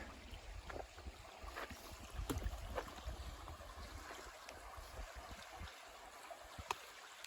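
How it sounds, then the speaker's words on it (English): Water runs steadily through a man-made stone wall beside a stream on the Appalachian Trail, a continuous broadband rush and trickle with occasional small splashes and clicks, fairly close, with no talking. "The water's just like flowing right through it"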